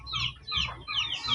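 Chickens clucking close by in a farmyard, several short overlapping calls in quick succession with no talk.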